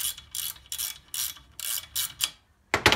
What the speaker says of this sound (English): So just put some pressure on that and it'll pop in.